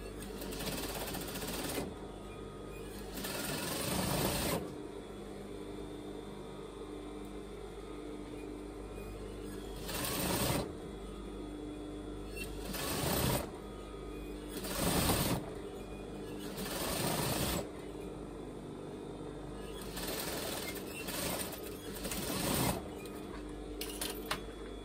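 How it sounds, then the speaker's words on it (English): A sewing machine stitches rows across a layered net petticoat in several loud, close runs of rapid mechanical whirring, separated by quieter pauses where the fabric is handled. "I'm going to put two rows of stitching on that."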